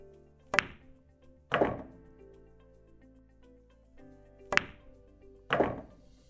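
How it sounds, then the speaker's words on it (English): Pool cue tip striking the cue ball on a stun shot to pot the 9 ball, followed by sharp ball-on-ball clicks: two pairs of crisp knocks with short decays over faint room hum. "I'm just playing the 9 ball in with a stun shot here"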